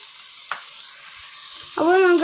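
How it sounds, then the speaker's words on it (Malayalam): Carrots being tossed into a pan of softened onions for a mixed fried rice, giving a steady sizzle with a brief stir near the start and a louder burst as the vegetables land; a voice briefly hums in at the end. "അപ്പോൾ നമുക്ക് അതിലേക്ക് ക്യാരറ്റ് ഇട്ട് കൊടുക്കാം."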